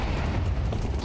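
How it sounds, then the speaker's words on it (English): A grenade blast in the Counter-Strike 2 video game, a dense, sustained low rumble that fills the whole moment with no distinct onset, loud and boomy like a close detonation. "I'm throwing a grenade."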